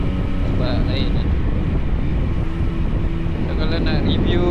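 A third-generation Yamaha MT-09 motorcycle with a downshifter drones along under loud wind rush, the engine note shifting near the end.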